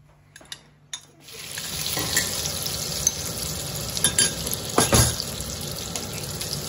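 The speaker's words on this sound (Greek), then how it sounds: "τώρα θα ρίξουμε στην κατσαρόλα μέσα το βούτυρο." Butter melting and sizzling in a pot while making moussaka, with a few light clinks at the start, then a steady hiss of frying and occasional stirring scrapes and knocks, close and moderately loud.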